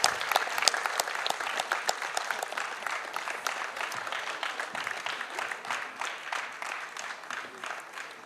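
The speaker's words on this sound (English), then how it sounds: "Big round of applause" Sustained applause from the audience at a test automation award ceremony as Team ADP is named runner-up for Test Autothon 2016, dense steady clapping filling the room throughout.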